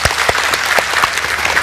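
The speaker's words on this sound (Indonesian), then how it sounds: "Beri tepuk tangan." Applause from a studio audience at an Indonesian health talk show as a cardiologist guest is welcomed, a steady dense clapping that carries on evenly throughout.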